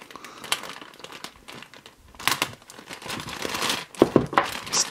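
Plastic packaging around a Gundam Converge Neo Zeong model part crinkles and tears in irregular bursts as it is cut open, close and fairly quiet, with no talking.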